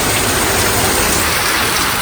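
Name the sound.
heavy rain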